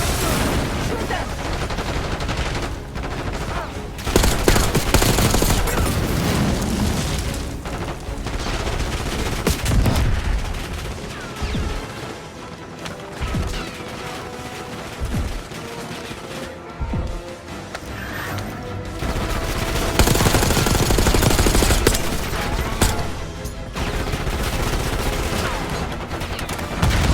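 Heavy gunfire in Call of Duty: Black Ops 6, with bursts of automatic fire and single sharp shots crackling across the whole stretch, loud and dense, with occasional voices mixed in.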